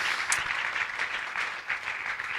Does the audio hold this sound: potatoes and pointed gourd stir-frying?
no